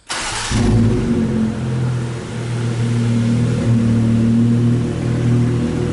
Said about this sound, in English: Let's see how she sounds without an exhaust. I'll do the remote start.